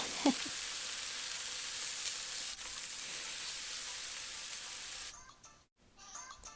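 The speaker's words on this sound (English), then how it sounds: "I like the sound of the sizzle." Steady sizzling of a chicken breast frying in a hot oiled skillet, a continuous crackling hiss that cuts out near the end, followed by faint clinks.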